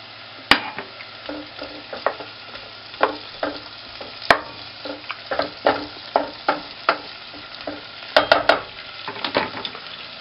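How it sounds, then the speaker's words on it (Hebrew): Butter sizzles in a pan while onion soup is being made, with soft frying crackle under a steady low hiss and repeated sharp clinks and scrapes of stirring; no talking. "אני מוסיף חמאה"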